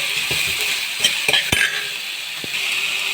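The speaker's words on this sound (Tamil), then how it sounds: "தக்காளி வதங்கியவுடன் சௌசௌ சேர்த்து வதக்க வேண்டும்." Tomatoes and chayote for a chow chow sambar sauté in a pan at home, with a constant sizzle under scattered scrapes and clinks of a spatula stirring, close and alone.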